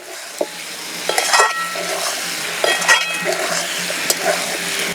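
Young jackfruit and shrimp frying with spices over low heat, a close, steady sizzle broken by repeated scrapes and clinks of a spatula stirring against the pan, moderately loud and without talking.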